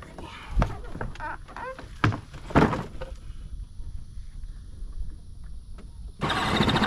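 Replacement electric motors on a Power Wheels Jeep are tested; quiet, scattered handling noises and faint voice-like sounds give way to a loud, steady motor whir in the final half second.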